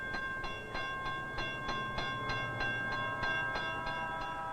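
A train passes at a railroad crossing, with a steady rhythmic clatter repeating roughly every half second under a sustained tonal ring from the crossing signal, moderately loud and with no voices.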